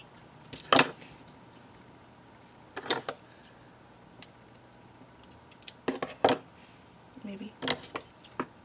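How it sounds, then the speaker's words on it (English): Scissors snip through a plastic page protector during a papercraft shaker project, with a few crisp cutting strokes spaced apart and close by, set against a quiet room. "I'm just going to cut my page protector here."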